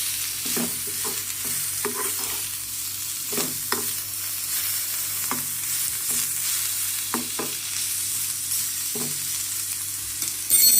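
Bitter gourd (karela) roasts in a pan with a continuous close sizzle, punctuated by several sharp stirring scrapes and taps, with no voices.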